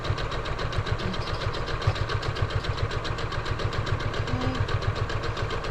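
A sewing machine stitches a quilt border with a steady, rapid mechanical chatter, running continuously and close up for the whole stretch with no talking.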